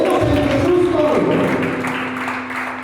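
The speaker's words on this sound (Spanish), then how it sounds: "Denle ese aplauso a Él." A church congregation at an apostolic youth service in Venezuela breaks into sustained, dense applause that fills the room and then slowly thins, with a voice speaking over it.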